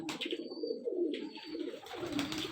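Low, continuous cooing from several pigeons kept in a loft, overlapping throaty calls close at hand with faint higher chirps behind them.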